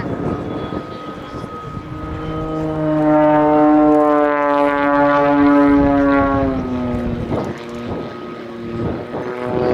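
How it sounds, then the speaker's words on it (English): Loud, steady roar from the two gas turbines of a jet-powered Pitts Special at an air show, with strong rising and falling harmonic tones, swelling as it passes close, then easing with some wind noise. "you can hear the noise of the two gas turbines there"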